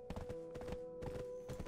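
Horse hooves clip-clop in the video game Black Desert Online, a fast, steady run of hoofbeats sitting over a constant tonal game-music drone, with an occasional faint whinny-like sound.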